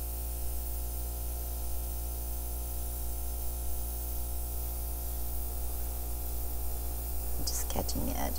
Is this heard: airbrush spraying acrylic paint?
yes